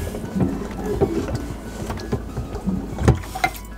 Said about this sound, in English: Yep, that dumped a lot of water.